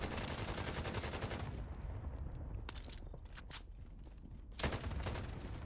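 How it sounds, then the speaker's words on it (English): A teammate test-firing a gun in Warzone on Rebirth Island, a loud sustained automatic burst followed by scattered shorter shots and another burst near the end. "he's probably testing the recoil of that gun, which I don't blame"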